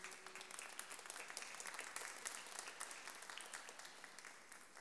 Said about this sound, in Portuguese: se você puder dar uma linda salva de palmas para Jesus